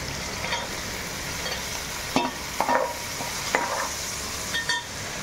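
Peanuts frying in a pan while preparing uggani, a steady soft sizzle with a few louder stirring scrapes and clinks scattered through.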